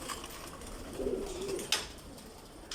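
A pigeon in a loft gives a single low, throaty coo over steady background hiss, with a couple of sharp clicks nearby afterward.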